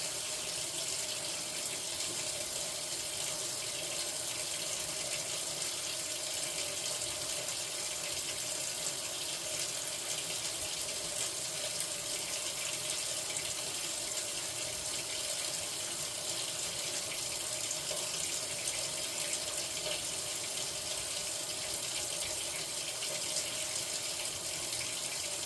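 A kitchen knife being rinsed under a steady stream of tap water into a sink, a continuous even splashing hiss that runs close and loud for the whole stretch with no talking.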